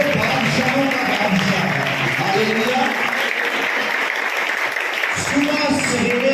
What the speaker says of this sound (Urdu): آج زندہ خدا کے لیے زوردار تالیاں دیں